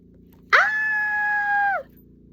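A single loud, sustained scream from a person, sharp onset then held for over a second at steady pitch before cutting off, heard alone over a faint background.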